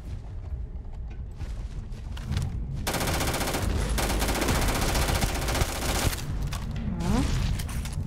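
An automatic weapon with a 150-round capacity in the video game Starfield fires long, dense bursts of rapid shots that start after a few quieter seconds, loud and sustained, with brief pauses.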